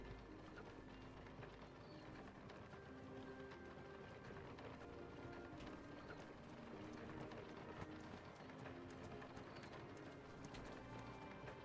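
Horse hooves clip-clop in a steady running rhythm while riding in the video game Ashes of Creation, moderately quiet with birdsong and ambient mechanical sounds around it.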